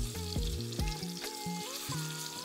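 Beef tongue steak searing in a warm pan gives a soft, steady sizzle close by, with a low background hum and a few faint knocks, and no one speaking.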